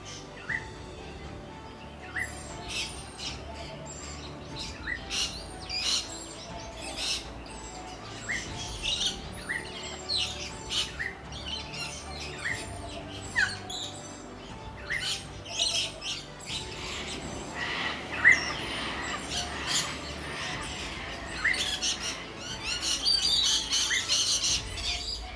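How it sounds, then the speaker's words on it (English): Woodland bushbirds chatter in Kakadu National Park, including parrots, bee-eaters, honeyeaters and finches. Many scattered chirps, tweets and squawks near and far overlap continuously and grow busier toward the end. "there's a plethora of woodland bushbirds chattering away, especially during a dawn chorus"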